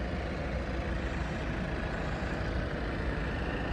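A 2015 Volvo V60 with a 2.0 D4 diesel engine and Aisin automatic gearbox runs steadily, a constant low rumble heard close and unchanging with no talk over it.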